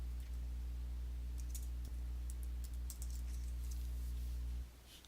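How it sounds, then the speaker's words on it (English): Faint typing on a computer keyboard, scattered soft key clicks over a steady low electrical hum that drops away at the end. "I'm just going to type in Gorillas"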